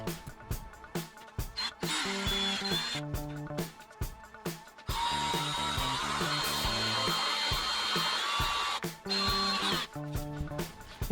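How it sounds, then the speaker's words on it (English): A power drill with a small bit bores holes in an Oldsmobile small-block engine block. The drill whines steadily, stopping and starting at first, then runs in one long continuous stretch before several shorter bursts. "grab a really small drill bit and drill out those holes"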